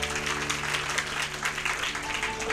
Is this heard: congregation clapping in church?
yes